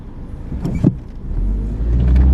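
Saab 9-5 engine with a PCV-related oil consumption fix is revved with the accelerator, a close car engine rumble that swells and holds steady toward the end with a brief mechanical whir early on.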